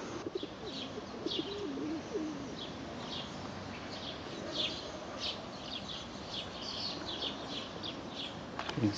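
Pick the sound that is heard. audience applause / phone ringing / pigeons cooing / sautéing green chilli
pigeons cooing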